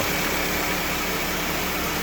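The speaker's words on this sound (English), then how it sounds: "Sweet running little engine." Replacement engine in a 1997 Toyota Camry running steadily, a loud, even idle hum with broadband whir and no change in pitch, heard alone without talk.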